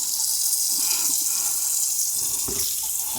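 Cold water runs steadily from a kitchen tap over boneless country style ribs being rinsed in a sink, a continuous close splashing stream with a brief heavier splash near the end.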